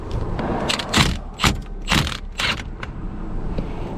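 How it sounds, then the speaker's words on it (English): Ratchet wrench working a 19 mm nut on a 2002 Honda Civic Si, several short bursts of clicking ratchet strokes close by, spaced about half a second apart, then tapering off into quieter clicks. "It's time for me to take this nut off."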